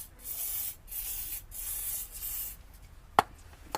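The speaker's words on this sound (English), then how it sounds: "I'm just going to spray some lanolin on there" Three hissing bursts of lanolin spray hit a socket used to remove car wheel nuts, each lasting about half a second, followed by a sharp metallic clink.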